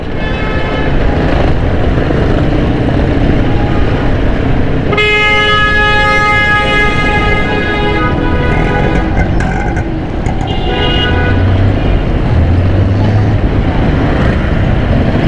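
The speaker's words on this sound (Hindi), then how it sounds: "बहुत स्लो गाड़ियाँ चलती हैं, स्लो ट्रैफिक चलती है, जिसकी वजह से ट्रैफिक जाम होता है।" Slow, congested traffic on a broken-up road around Numaish Chowrangi in Karachi: steady engine and road noise, with a loud, sustained horn blaring partway through and fainter honks later.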